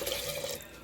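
Water pours steadily over lentils in a pot for a home-style moringa leaf sambar, a brief close, continuous splashing trickle with no talking.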